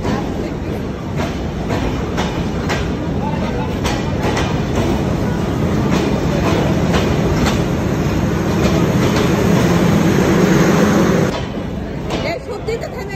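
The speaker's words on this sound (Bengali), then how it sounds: "সে ট্রেন থামাতে পারে, থামা ফেলছে দেখছেন" A passenger train rolls past and slows to a stop, loud rumble with a repeating clickety-clack of wheels on the rails that fades away near the end, while people talk over it.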